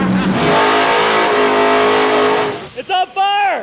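Tanner Foust's VW Passat drift car screams in a loud, sustained high-rev burnout that holds steady for over two seconds, then drops off as excited voices shout over it and the engine blips again in short bursts.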